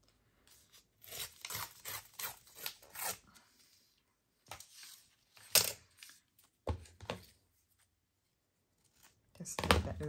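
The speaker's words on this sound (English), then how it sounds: "So I'm just going to snip it off and glue it on." Scissors snip through decorative trim in a quick run of crisp cuts, followed by a few sharper isolated snips and rustles after pauses, close and fairly quiet.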